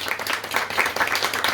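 Indoor audience at a literary gathering applauding its hosts, a steady wash of many hands clapping, close and continuous without pause.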